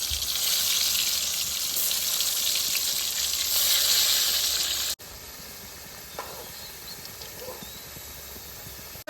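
Potatoes frying in a pan while a duck meat curry is being prepared, a steady bright sizzle that drops abruptly to a quieter, even hiss partway through, with no talking.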